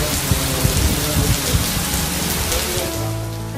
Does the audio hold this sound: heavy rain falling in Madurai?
yes